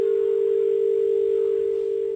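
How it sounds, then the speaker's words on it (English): A steady, unbroken telephone dial tone holds one pitch at constant loudness throughout, with nothing else heard. "that sounded like a dial tone there, so presumably the phone has been cut off"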